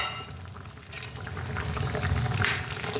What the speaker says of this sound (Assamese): পনীৰখিনি উতলি আছে।